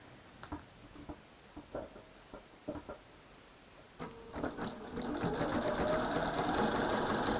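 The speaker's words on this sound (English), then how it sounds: "we'll take it to the machine and sew" Sewing machine stitching quilt fabric from edge to edge, starting with a few scattered ticks and taps, then settling into a steady, close, rapid mechanical chatter.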